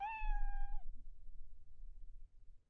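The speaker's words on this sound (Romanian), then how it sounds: "Asta e pisica lui Costin, mă." A single kitten meows close by, one clear high drawn-out call lasting under a second, followed by quiet room noise.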